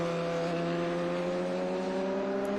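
A vintage race car at Watkins Glen holds a loud, steady high-pitched engine drone as it runs through the inner loop, close and continuous with no talk.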